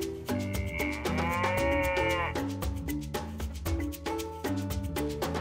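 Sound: cow moo played by Dash robot

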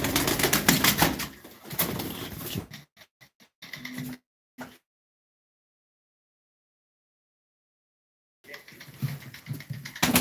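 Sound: pigeons flapping wings at a live pigeon auction

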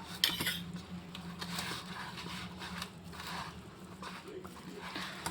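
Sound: spoon mixing batter in a bowl

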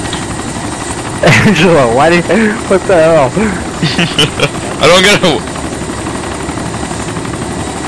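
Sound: helicopter arriving, from video game DayZ

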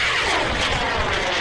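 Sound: model rocket motor ignition and launch

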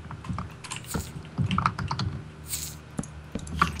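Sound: typing on a computer keyboard

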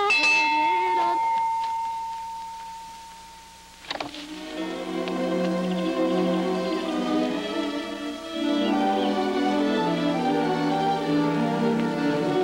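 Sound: bell being rung

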